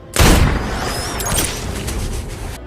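A rifle shot in a war film sniper duel fires with a loud boom at the start, then a long rolling echo and battle rumble decaying over the next two seconds, with no voices.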